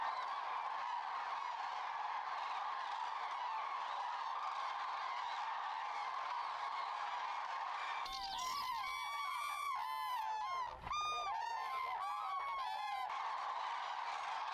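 Common cranes call in a burst of loud, overlapping trumpeting honks from a flock wintering in Hungary, rising suddenly over steady background noise after a stretch without calls.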